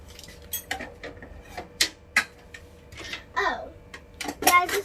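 Orange plastic fork and spoon being handled in a home kitchen, a scatter of light clicks and clatters at irregular intervals, close and fairly quiet, with a brief murmur of a voice between the taps.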